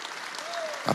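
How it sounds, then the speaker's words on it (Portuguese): A Pentecostal church congregation applauding together, dense and continuous clapping from a crowd for about a second, growing slightly louder at the end. "Aplauda, nunca deixe o irmão aplaudir sozinho, não é educado."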